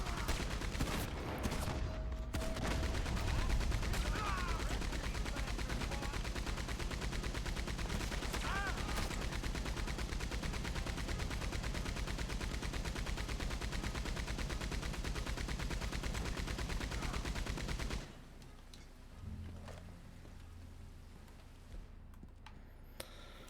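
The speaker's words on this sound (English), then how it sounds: "He lets me steal his Maxim gun" Sustained Maxim machine gun fire in Red Dead Redemption 2, a dense continuous rattle of rapid shots lasting most of the stretch before cutting off into quieter ambience.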